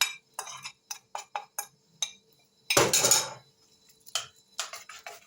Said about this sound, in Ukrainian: Все розмішую